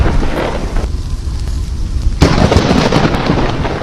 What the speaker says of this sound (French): un éclair gigantesque s'abat juste derrière lui, illuminant la scène d'un flash aveuglant